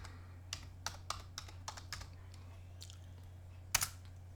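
Computer keyboard typing in a short run of separate clicks, one louder keystroke near the end, close by and with no talk.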